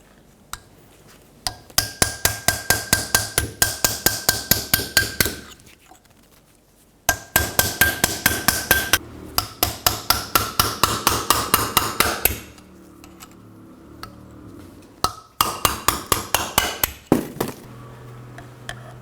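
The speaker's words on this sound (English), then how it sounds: "Using a punch and a hammer, we're going to knock this back cap off." Rapid metallic hammer blows strike a punch to knock the back cap off a Ford Expedition front driveshaft CV joint, in quick bursts of a dozen or so hits, with short pauses between runs, loud and close.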